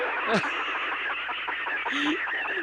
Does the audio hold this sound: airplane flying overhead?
no